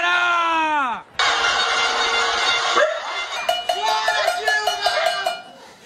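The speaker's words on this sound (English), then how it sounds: "People were banging their pots," Crowds in São Paulo bang pots from apartment windows in a panelaço protest, with car horns honking. Loud, dense clanging and shouting fill the whole scene, with sharp metallic hits sounding in quick bursts near the end.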